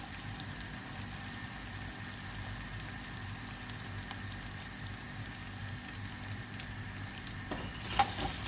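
Thin vermicelli noodles toasting in oil in a pan, giving a steady, soft sizzle and crackle that runs unbroken throughout, with a brief clatter near the end.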